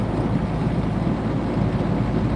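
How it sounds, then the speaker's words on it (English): Loud, steady wind rumbling and buffeting against the microphone, a low continuous roar with no pauses. "It's pretty windy out here."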